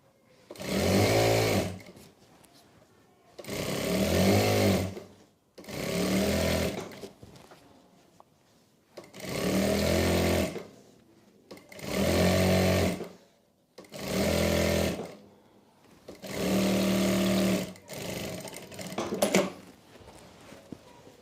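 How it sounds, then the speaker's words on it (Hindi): A sewing machine stitches salwar fabric in repeated bursts of steady, loud whirring, each run lasting a second or two, separated by short pauses as the cloth is repositioned. "इसके अंदर से हम सिलाई लगाएंगे।"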